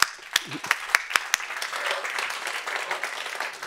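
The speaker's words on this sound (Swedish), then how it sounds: "Kan få en applåd ska vi göra så här" A few sharp claps open a burst of applause at a seminar that swells into steady audience clapping, moderately loud, with faint talk underneath.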